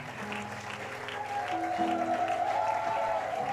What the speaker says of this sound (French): On peut donner à notre Dieu des acclamations.